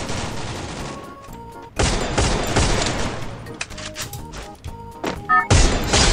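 Bursts of automatic gunfire and crashing impacts in a shooting video game, loud and dense with brief lulls between volleys and a final heavy barrage near the end, with no speech over it.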